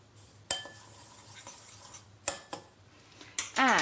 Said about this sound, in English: Stir it in a bit, I think.